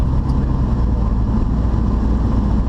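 A Mazda Protege engine with an aftermarket muffler idles with a steady low rumbling exhaust drone, loud and close, without any talking.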